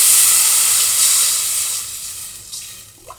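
Water poured into a cooking pan of browned ingredients with turmeric, a loud steady hissing rush and sizzle that slowly fades, with a few small splashes near the end.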